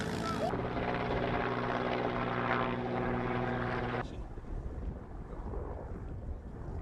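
Military helicopter in flight during a cadet parachute drop, a loud steady rotor and engine drone with a rhythmic beat that cuts abruptly to quieter wind-buffeted rumble near the end.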